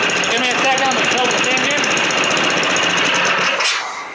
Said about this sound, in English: it's still spinning in there and it's touching, it's humming, but I think what it is this chain is too loose, it bounces a lot